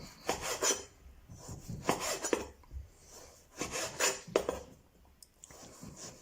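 A knife slices regular, non-spicy chorizo into half-centimetre rounds, giving close, rasping cutting strokes in uneven rhythmic bursts with short pauses between them and no talking.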